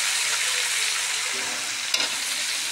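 Fish sizzling steadily in hot oil in a pan, a dense continuous crackle close by with one brief sharper pop near the end, no voices.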